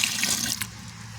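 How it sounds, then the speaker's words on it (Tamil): Cow urine pours in a steady splashing stream onto a kilogram of cow dung as an organic farming mixture is prepared, close and continuous for about a second. "முதல்ல இந்த 1 கிலோ சாணி கூட 1 லிட்ரு கோமியத்தை நல்லா ஊற்றிக்கணுங்க."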